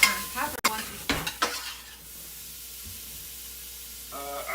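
Pre-minced garlic goes into a hot pan for sourdough stuffing, with a few sharp clinks and scrapes of a spoon at first, then a low, steady sizzle that carries on quietly.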